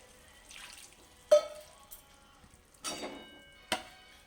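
Water goes into a pan of ground garlic, ginger and spices, heard as a few brief, close splashes and pours separated by quiet gaps.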